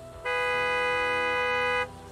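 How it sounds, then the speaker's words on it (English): A car horn blares once in Gas Station Simulator, a single sustained bright honk lasting about a second and a half, loud and close, rising and cutting off abruptly. "Don't fucking honk!"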